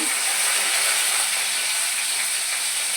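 Onion and black cumin sizzle steadily in hot oil, a dense continuous frying hiss held at an even level from start to finish, with no voices over it.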